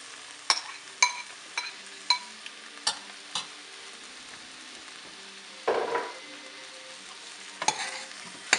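Mushrooms are added to onion and garlic in a hot pan and fry with a steady soft sizzle. A utensil scrapes and taps the pan in regular strokes, and a few louder stirring clatters come near the end.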